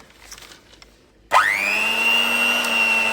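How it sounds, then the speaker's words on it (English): After a quiet pause, a motorised whisk switches on in a bowl of Nigerian pancake batter and then runs with a steady, loud whirring whine to the end. "Just gonna whisk."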